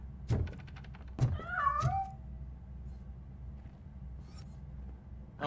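A cat meows in the video game RoboCop: Rogue City, a single clear, close meow between heavy thumps, followed by quiet ambience.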